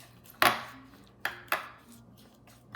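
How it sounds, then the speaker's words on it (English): Utensil clacking against a bowl during a quick mix of ingredients for pork tenderloin, three sharp close knocks with soft scraping between, no talk. "And we're just going to mix that in the bowl."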